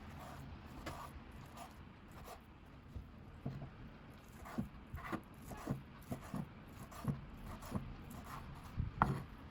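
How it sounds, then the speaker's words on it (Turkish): A knife chops beef tripe repeatedly on a board, the cuts growing more frequent and distinct partway through, with a steady low background hum. "Şimdi hemen doğrayalım işkembemizi."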